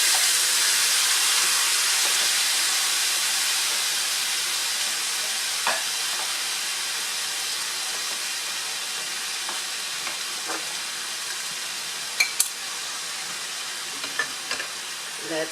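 Shrimp hit a hot pan for a bean sprout stir-fry, and a steady, close hissing sizzle follows, with faint clicks and pops of stirring scattered through it. No one talks.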